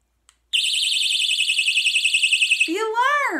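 An emergency roadside strobe light alarm sounds after a click, a loud rapidly warbling electronic tone that holds for about two seconds before a voice speaks over its end.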